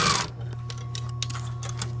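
A sewing machine runs steadily, stitching a seam on a movie costume, with a fast, even mechanical whir close by and a brief louder burst at the start.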